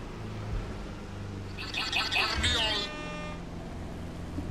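A Saweria donation alert chimes out over a racing game's engine hum, a short bright burst of tones lasting about a second and standing clearly above the steady background.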